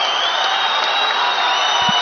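Arena crowd at an MMA fight between Umar Nurmagomedov and Cory Sandhagen, a steady loud roar of cheering and applause filling the whole stretch, with a brief low thump near the end.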